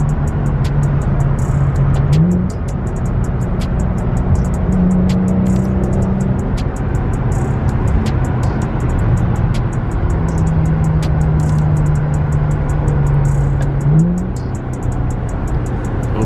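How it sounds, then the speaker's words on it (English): An Infiniti Q50 engine drones steadily from inside the car while driving, with sharp rev blips on downshifts near the start and again near the end; no talking. "I'm gonna downshift for y'all right here though"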